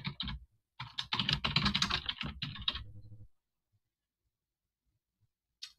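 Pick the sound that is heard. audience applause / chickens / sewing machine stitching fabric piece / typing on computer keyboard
typing on computer keyboard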